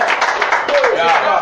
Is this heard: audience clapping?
yes